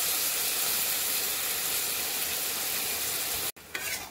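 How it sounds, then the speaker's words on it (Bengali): Loud steady sizzle of taro stolon curry frying in a pan, broken by a sudden brief drop near the end as water and fried mustard go in, then renewed bubbling hiss. "এবার ওতে একটু জল দিয়ে তার মধ্যে ভেজে রাখা সরষেটা দিয়ে দেবো"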